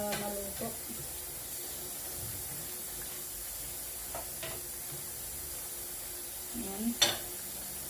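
Sautéed vegetables simmer in a pan with a faint, steady bubbling hiss, a few soft spoon scrapes and clinks, and a brief voice near the end.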